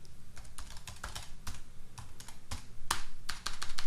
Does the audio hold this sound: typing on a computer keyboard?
yes